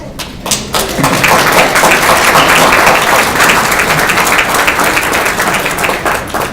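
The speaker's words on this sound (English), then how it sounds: "Well-deserved applause" An audience breaks into loud, full applause at a lecture on Jonas Salk, starting with a few scattered claps and quickly building into dense sustained clapping that holds to the end.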